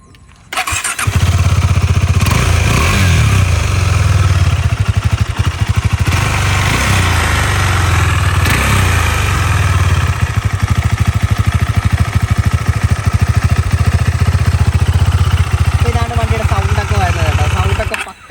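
A KTM Duke 390 motorcycle, offered as 2021 BS6 and 2018 BS4 models, starts up and runs loud and close with a steady throbbing engine note and several revs over about eighteen seconds.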